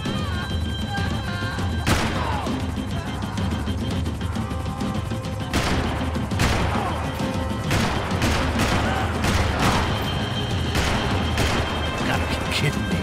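Gunfire from Max Payne 3 crackles through a busy chase scene with a helicopter. Scattered sharp shots and volleys ring out over a steady roar, with voices present in the mix.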